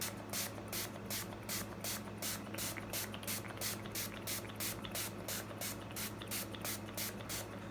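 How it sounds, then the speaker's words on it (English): Rapid pumps of a rosewater, herb and aloe facial spray bottle misting, a steady run of short hissing bursts over a low hum, close by. "It's the Rosewater Herb and Aloe Facial Spray."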